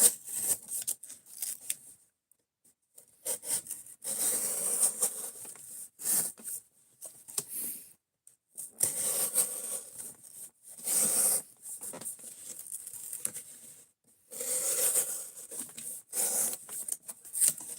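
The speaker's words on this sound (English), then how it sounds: "they'll put knives through cardboard" A knife with a slightly loose pivot slicing through cardboard in repeated bursts of dry scratchy tearing and cutting, separated by short silences, close and moderately loud.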